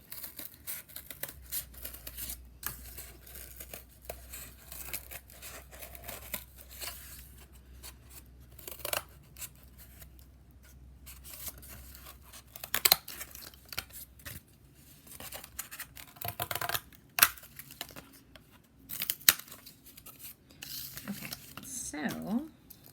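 Scissors cut through cardboard along the curve of a letter G, giving soft, irregular snips and scraping crinkles, mostly faint with a few louder cuts and a low hum underneath.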